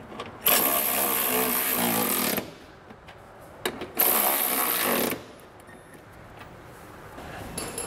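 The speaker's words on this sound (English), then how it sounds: "we can come back with a 3/4 inch socket and snug everything down" A powered driver snugging down bolts with a 3/4 inch socket while fitting an EcoHitch hidden trailer hitch receiver on a 2021 Toyota RAV4: two loud, steady whirring bursts of about two seconds each, with clinks between them.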